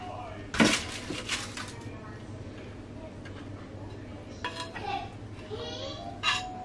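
A plate is set down in a home kitchen while oven-grilled mackerel is served, making one sharp clatter and then lighter clinks of dishes, with people talking nearby.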